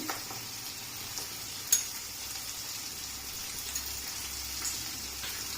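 Paneer chilli sizzling in a pan as it is stirred, a steady close frying hiss with light scraping and one brief clink early on, no talking.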